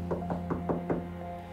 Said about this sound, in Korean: 계속해서 멈추지 않는 노크 소리.